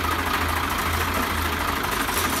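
A 1994 Swaraj 735 FE tractor engine idles in a loud, steady low rumble that fills the whole stretch, close by and alone.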